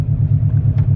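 A car's exhaust idling in a parking garage, a deep, pulsing low rumble echoing off the concrete with a steady throb, close and loud, no voices.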